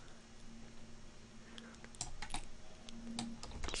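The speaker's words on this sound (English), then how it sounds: "I'm dealing with a really small keyboard right now" Rapid clicking keystrokes on a small computer keyboard, irregular bursts of taps close to the mic over a low steady room hum, with no one speaking.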